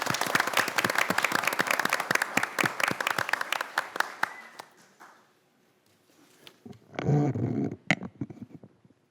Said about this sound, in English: One more round of applause for Tyler.